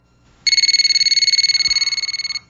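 A telephone rings with an incoming call, a steady electronic trill of rapid pulses that starts abruptly and continues loud and close for about two seconds, with no voices.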